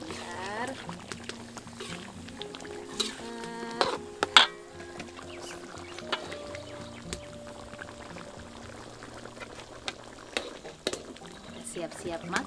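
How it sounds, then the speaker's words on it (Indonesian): Sayur besan, a vegetable dish topped with spring onion, is stirred briefly in a pot with a clatter of utensil against the pot over soft liquid sloshing. "Kita aduk-aduk sebentar."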